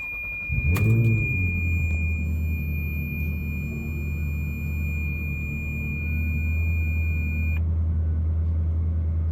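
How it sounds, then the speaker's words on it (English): A Ferrari engine cranks and catches, then settles into a steady, loud idle rumble, with a high electronic tone running beneath until it cuts off. "start the car"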